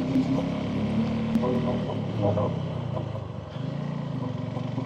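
A Suzuki V-Strom 250 motorcycle climbs a hill road in Vagamon, its steady engine drone and hum running throughout, with a slight dip in the noise toward the end and someone speaking over it.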